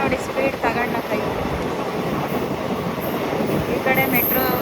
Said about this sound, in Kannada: ನಮ್ಮ ಟ್ರೈನ್ ನೋಡಿ ಸ್ಪೀಡ್ ತಗೊಂಡೈತೆ